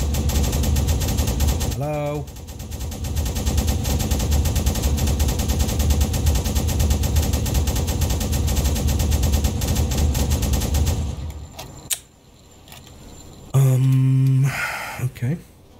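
Submarine deck gun firing at a ship in the Uboat naval game, dense sustained rapid gunfire for about eleven seconds, then a brief pause; someone speaks over the shooting near the start and again at the end.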